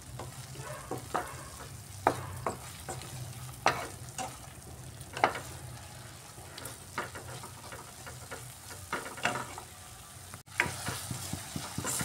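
Spice masala paste with water being stirred and fried for omelette curry, a steady low sizzle broken by repeated irregular spoon scrapes and taps against the pan, close and fairly quiet.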